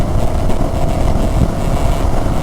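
CFMoto CLX 700 motorcycle cruising at 65 mph around 4,500 RPM, a loud continuous engine drone buried in heavy rushing wind noise from riding, steady throughout.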